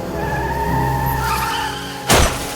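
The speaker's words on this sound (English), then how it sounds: "Suddenly, his car hits a tree." A car speeds through a dark night, engine and tires whining in a smeared skid, then slams into a tree with one sharp, loud crash near the end.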